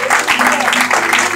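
A church congregation claps loudly and briskly in a dense, continuous burst of applause while a preacher's voice carries over it.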